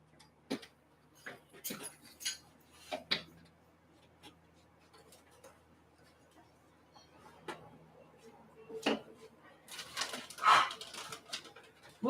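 A dog moves around a room during a craft session ironing a journal cover, with scattered close sniffs, pants and soft whimpers, plus light handling clatter and a brief voice.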